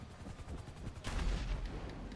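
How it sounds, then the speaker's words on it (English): Gunfire in Grand Theft Auto V Online, a faint, rapid crackle of shots that swells into a denser burst midway through, heard at a distance without talk. "he's shooting at me"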